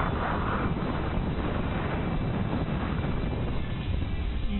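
Strong wind gusts roar steadily across the microphone aboard a sailboat reefed on both sails on Lake Michigan, a continuous loud rushing with no talk.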